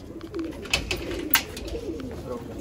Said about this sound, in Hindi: ये आ गए भाई सारे नए कबूतर बाहर